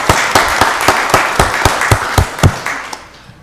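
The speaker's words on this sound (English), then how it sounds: "another round of applause" Loud, close clapping at a county board of commissioners meeting, about a dozen distinct sharp claps in a loose rhythm over a bed of scattered applause, fading out at the end.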